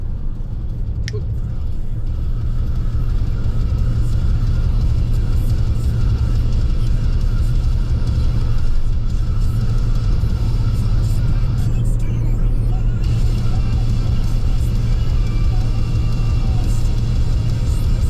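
A van drives down the road on a trip toward California: a steady, loud, low engine and road rumble heard from inside, continuous throughout with a faint whir on top.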